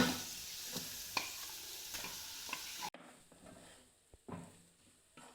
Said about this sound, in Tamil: இதெல்லாம் கொஞ்சம் வதங்கட்டும்